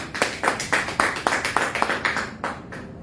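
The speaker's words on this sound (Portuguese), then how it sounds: "Aplauda, Senhor." A church congregation claps in a steady rhythm, with sharp, evenly spaced claps roughly every quarter second that fade toward the end. There is no talking.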